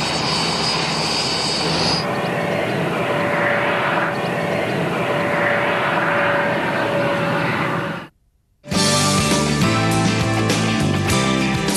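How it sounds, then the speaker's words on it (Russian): A passenger plane from Moscow landing at St. Petersburg airport, its engines giving a loud, steady roar with a faint whine, then a brief cut to silence before a different busy mechanical passage. "Самолет из Москвы приземляется в аэропорту города Санкт-Петербург."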